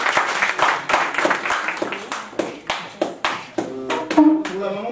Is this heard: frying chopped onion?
no